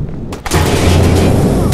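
A loud gunshot boom in the Watch Dogs video game, a sharp blast followed by a rumbling roar that sustains close and heavy until the end.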